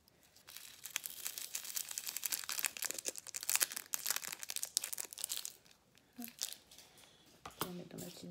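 Crinkling paper sachet of diamond painting drills handled close by, irregular rustles and crackles, with someone speaking softly near the end.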